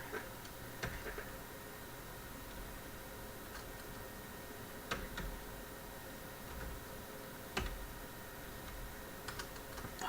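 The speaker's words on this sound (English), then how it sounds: "Why do I keep typing O's?" Keys clattering steadily on a computer keyboard during an online practice session, a continuous run of quick soft clicks with a few sharper, louder taps standing out.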